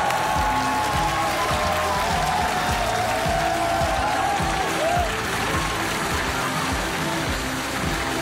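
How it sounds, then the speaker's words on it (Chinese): Sustained, dense applause from a large studio audience at a roast comedy show, loud and even throughout with a few faint whistles or cheers mixed in. "让我们掌声有请被新华字典抛弃了的叶培"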